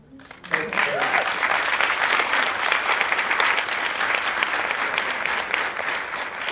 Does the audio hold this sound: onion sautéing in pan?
no